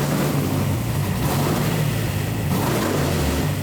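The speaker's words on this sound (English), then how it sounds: "505's on the dyno. It is running, got it up to temp" A 505 cubic inch Mopar wedge-head V8 runs steadily on an engine dyno, a loud, continuous low rumble with a dense roar filling the whole clip and no voices.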